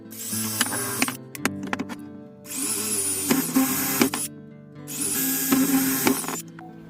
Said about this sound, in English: Just going to drill a couple holes